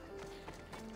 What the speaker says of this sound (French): Allez, on va prendre le cheval comme ça.